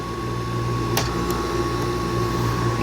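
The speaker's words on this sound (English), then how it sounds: "The compressor sounds good." An air conditioning compressor runs steadily with a low, constant hum and a faint electrical whine, one brief click-like burst partway through, no voices.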